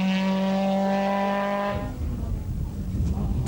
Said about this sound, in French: Avec sa petite Peugeot 106, Van de retarde ses freinages au maximum.